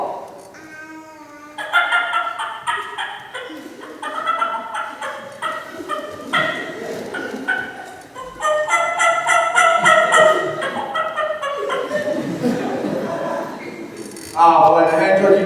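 Latex mouth call imitating a hen turkey's clucks and calls, a string of short, sharp, close notes in uneven bursts, fairly loud, with some louder runs toward the end.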